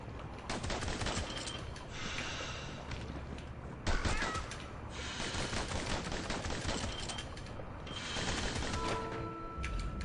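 Rapid gunfire in a video game: bursts of automatic shots crackle at moderate volume, with mechanical clatter and a sharper spike near the middle.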